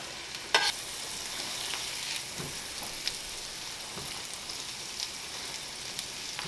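Jalapeño and diced shallots sauté in a pan for crab mac and cheese while being stirred: a steady close sizzle with occasional sharp clinks of the spoon, no voices.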